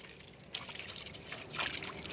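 Water runs from an outdoor shower on a farm, a soft steady splashing trickle at low level with a few brief louder surges.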